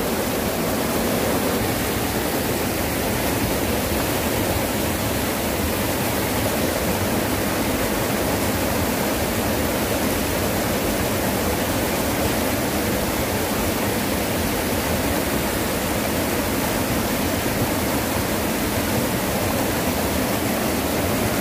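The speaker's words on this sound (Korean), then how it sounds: "폭포가 되거든요." Heavy monsoon rainwater pours down like a waterfall at an earthen cave dwelling in Buan, a loud, continuous rushing wash of water with no breaks or voices.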